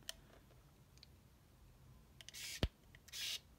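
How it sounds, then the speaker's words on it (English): Nikon Lite Touch Zoom 150ED compact film camera firing its flash with the lens shutter slightly delayed, heard as a few small clicks, then a brief whine, a sharp snap and a second whirring burst, close and quiet. "So you can see that the flash fired in the lens shutter delayed a little bit."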